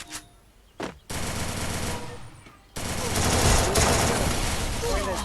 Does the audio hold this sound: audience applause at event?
no